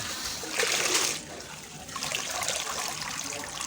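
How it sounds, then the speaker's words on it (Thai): Water splashes and trickles while soil is washed off freshly harvested roots, a close, continuous rinsing sound that swells briefly in the middle. "ล้างดินออก"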